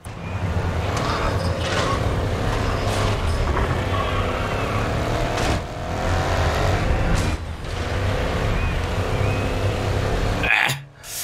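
Racing cars in the video game Grid Legends roar continuously through a race, with loud, steady engine drone, shifting revs and brief gear-change dips, the sound cutting off abruptly near the end.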